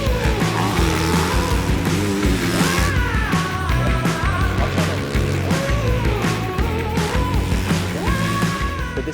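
A 2025 Honda CRF450R dirt bike ridden at Ironman Raceway, Crawfordsville, Indiana, gives a loud, continuous engine roar with rising and falling revs through gear changes, heard close.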